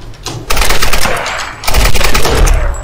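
Rapid bursts of automatic gunfire from the Tomb Raider video game, two loud sustained volleys separated by a brief lull, close and dense, with no talking over them.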